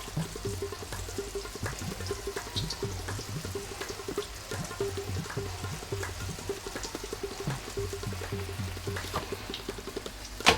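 Bread pieces frying in hot cooking oil in a pan, a steady bubbling crackle with small pops running throughout, close and moderately loud with no talking.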